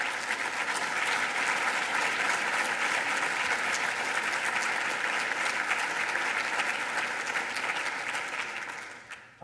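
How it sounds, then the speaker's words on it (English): A conference audience gives sustained applause in a large hall, a dense, even wash of many people clapping that holds steady for about nine seconds before tapering off at the end. "I'd like for you to give her a round of applause"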